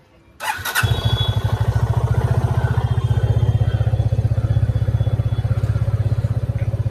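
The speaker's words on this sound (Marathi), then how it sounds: "आता पहिला कोल्ड स्टार्ट करूया" A motorcycle engine is cold-started in a parking lot: a brief crank catches quickly and settles into a loud, steady, rhythmic idle close by, with no talking.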